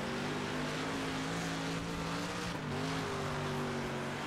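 Dirt race car engine in World of Outlaws Dirt Racing roaring at sustained high revs, harmonic pitch wavering slightly as the car works through a corner, loud and continuous.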